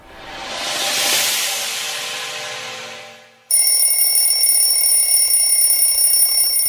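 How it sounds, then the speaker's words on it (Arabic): An alarm clock rings loudly and continuously nearby, first as a swelling electronic chime that fades, then switching abruptly to a sharp, steady high-pitched bell-like tone. "خلاص يا عم المنبه كفاية، صحينا هو"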